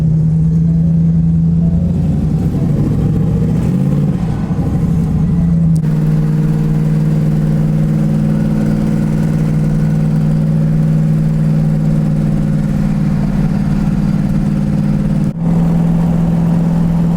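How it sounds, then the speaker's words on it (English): A stock-engine twin turbo Mustang idles loud and close with a deep steady drone, rising in a short rev early on before settling into a constant rumble, briefly cut once near the end. "What kind of street car is this, Nick?"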